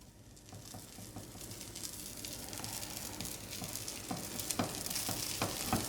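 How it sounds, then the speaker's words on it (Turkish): Pumpkin is spooned into semolina halva and stirred in a pan, giving a steady close sizzle with scraping spoon strokes that grow slightly louder near the end, no voices. "Bir iki karıştırdıktan sonra bir su bardağı bal kabağını aktarıyorum."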